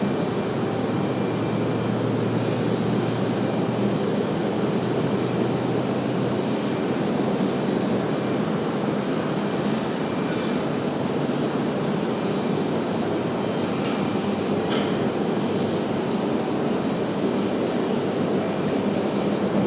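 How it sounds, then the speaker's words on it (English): A United jet airliner, flight 2407, takes off at RDU airport with a steady, loud roar of jet engines that stays broad and constant throughout, no voices over it. "United 2407 up for departure now"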